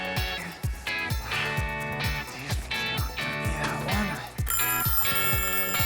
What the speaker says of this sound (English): Oh, timer's up.